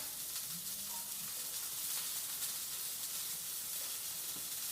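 Battered tempura onion rings frying in hot oil, a steady faint sizzle and hiss running throughout, with a brief low clink near the start.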